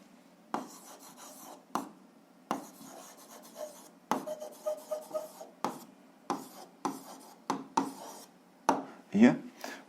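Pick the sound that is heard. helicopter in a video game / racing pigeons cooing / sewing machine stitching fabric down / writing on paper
writing on paper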